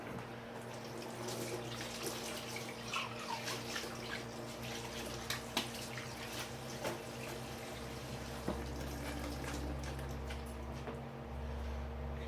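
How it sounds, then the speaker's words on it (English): Hands rinsed under a running tap during brisket preparation, a steady rush of water with soft splashes and drips, close and continuous, no talking. "rinse my hands off just a little bit so I can handle my utensils"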